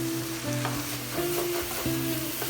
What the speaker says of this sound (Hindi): अभी इसको हमने भूनना है जी तकरीबन 2-3 मिनट में